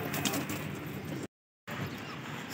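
Caged white-barred pigeons kept for breeding, with soft cooing and faint bird calls close by, broken by a brief gap of silence midway.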